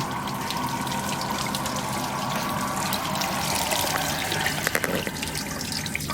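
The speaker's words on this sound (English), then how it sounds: "You wash your hands in here, and it's like a fountain" Water running continuously into a fountain-style bathroom sink at a beach restaurant, a steady close splashing trickle with a few brief clinks near the end, no talk.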